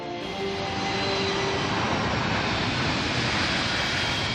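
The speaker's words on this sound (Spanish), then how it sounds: "Los aviones vuelan tan bajo que a veces es imposible oírse uno mismo." Airplanes fly low near Rome Fiumicino airport, a loud continuous jet roar filling the whole stretch with a steady broadband rumble and no voices.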